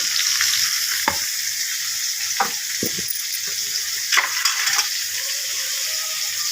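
Onion and a chopped medium tomato fry in a pan with a steady bright sizzle, broken by a few scraping stirs and light clinks.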